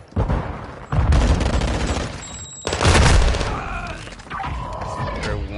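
Stun grenades go off in Modern Warfare 2 during a firefight: two loud, close booming bursts with crackling gunfire around them, under a player's voice.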